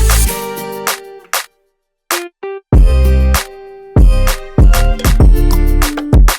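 A 2000s-style R&B hip-hop beat with punchy drums, where the kick and 808 bass drop out briefly for a break, leaving a few sparse hits before the full loud beat slams back in with repeated heavy hits.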